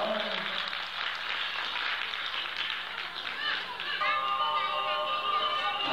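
Applause from parents and guests at a kindergarten festival after a children's ballet number, a thick wash of clapping that carries on as tonal music starts up near the end.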